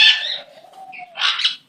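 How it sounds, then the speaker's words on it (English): A pet bird calls up close, two loud bursts of squawking separated by a softer sliding whistle-like note, alone with no talking. "Oh, the bratty bird."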